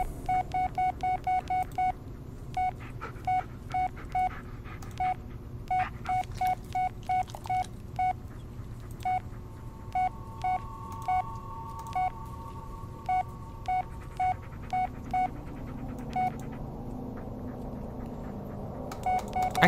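Phone keypad tones ring out in The Blair Witch video game while voicemail is being checked: a long run of short, clear beeps in quick irregular bursts, with a held tone partway through, over a low background hum and no talking.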